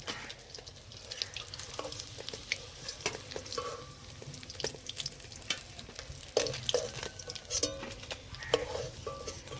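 Pieces of snakehead fish fry in hot oil in a home kitchen, a steady soft sizzle with scattered crackles and occasional scrapes and stirring knocks of a utensil against the pan, no voices.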